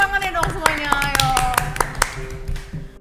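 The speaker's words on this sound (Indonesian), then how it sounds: "Tepuk tangannya dong semuanya, ayo." A studio audience claps in sharp, distinct strikes for an arriving guest on a talk show, close and fairly loud, with a voice and tonal music running underneath.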